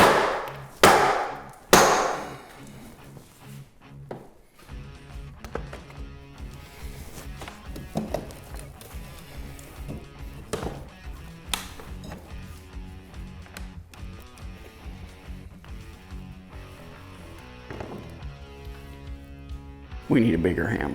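A hammer strikes a window frame set against caulked brick, giving several loud, sharp knocks at the start, followed by quieter scattered taps and handling noises.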